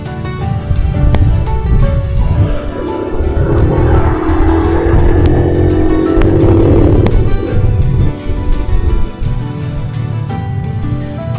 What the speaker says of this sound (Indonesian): Cukup ramai lalu lintas hari ini teman-teman